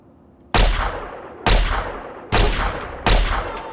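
Gunfire in the 2008 video game Fallout 3: four loud, sharp shots spaced roughly a second apart, each followed by a decaying echo, close and alone.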